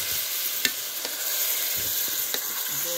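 Meat dropped into a pan of fried onions for lau murgi sizzles steadily, with a few sharp clinks of a spoon or utensil against the pan over the frying hiss.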